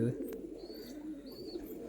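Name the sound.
pigeon cooing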